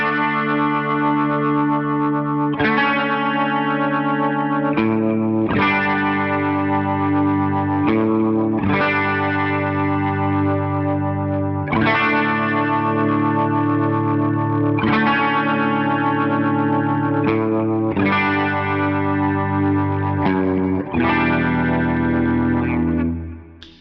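Electric guitar lead part played through effects including distortion, chorus and echo, with ringing sustained chords struck roughly every two to three seconds, loud and steady with no talking.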